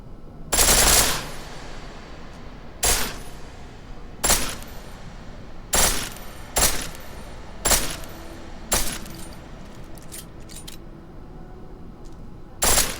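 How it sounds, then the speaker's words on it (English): Pistol set to full auto in the video game Deus Ex Mankind Divided, fired in about eight sharp, loud bursts of rapid shots spaced a second or two apart, with quieter ambience between them. "The pistol in full auto will take down targets fast, but it'll burn through your ammo"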